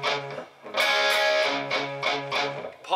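Distorted electric guitar chords strike in short bursts with a gritty, saturated tone, loud and close, punctuated by brief pauses between hits.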